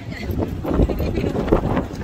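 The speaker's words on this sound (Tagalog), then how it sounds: "Mahangin talaga." Steady wind buffets the microphone with a low, rough rumble while a person talks over it.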